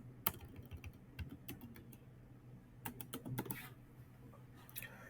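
A password being typed on a computer keyboard: quiet, irregular clusters of key clicks over a low steady hum, with no one talking.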